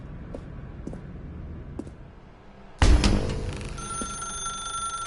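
In The Stanley Parable, a few faint clicks come first, then a telephone bursts into a loud, bright ring that keeps sounding steadily.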